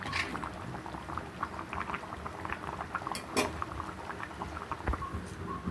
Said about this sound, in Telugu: చూసారు కదా, మనకి చక్కగా మరిగిపోతుంది చేపల పులుసు